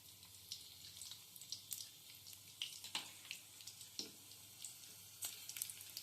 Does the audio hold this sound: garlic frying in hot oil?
yes